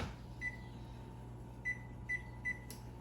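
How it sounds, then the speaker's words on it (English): Four short electronic beeps from a kitchen timer being set, one then a quick group of three, over a low appliance hum, followed by a brief click. "I'm gonna set that timer"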